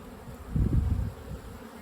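Honey bees buzz in an opened horizontal Flow Hive during an inspection, a soft continuous drone that briefly swells as bees pass nearby, faint and without speech.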